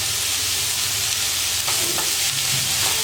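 Vegetables for semiya kichadi sizzle and hiss steadily in hot oil with a little salt, with occasional scrapes and stirring knocks in the pan.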